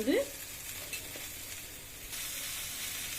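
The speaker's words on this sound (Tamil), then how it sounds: "வெங்காயம் நல்லா வதங்கட்டும், வெயிட் பண்ணலாம்." Onions and green chillies sautéing in a pan, a soft, fairly faint steady sizzle with a brief clatter at the start, no talking.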